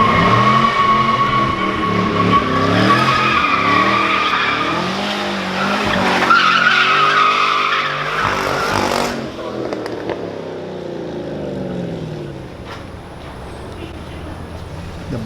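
Car taken on a test drive after a steering shaft repair, with loud close tire squeal and skidding plus engine revving for about nine seconds, then quieter driving noise with voices.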